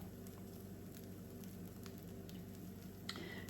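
Eggs frying in a pan on a griddle for a breakfast sandwich, a quiet continuous sizzle with a faint hum underneath and a small pop near the end.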